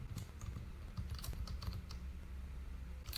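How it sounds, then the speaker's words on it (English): A spreadsheet formula typed on a computer keyboard produces a quick, steady run of close key clicks with an even rhythm and no speech. "come to the formula bar and type equal to"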